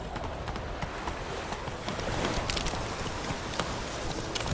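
A horse's hooves pound steadily across the ground in The Witcher 3, a continuous dense clatter of hoofbeats over a wash of outdoor ambience, loud and close throughout.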